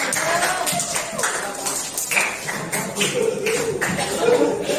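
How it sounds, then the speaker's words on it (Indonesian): Classroom clapping for two pupils, Raihan and Rani, a brisk patter of small-group hand claps with some shuffling, fairly close and continuing throughout. "Beri tepuk tangan dulu dong untuk Raihan dan Rani"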